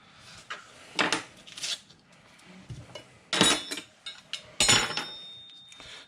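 A knife cutting through a stick of butter for a tablespoon portion while making potato cheese sauce, with a few distinct clinks and taps against a dish or board separated by quiet pauses.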